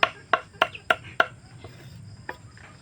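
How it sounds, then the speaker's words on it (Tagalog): A knife chops through a banana trunk being cut up as pig feed, with a quick run of five sharp, crisp strikes followed by a pause and one more cut, close by over faint insect-like background hiss. "Sa style niyang pag ihiwa ng saha ng saging"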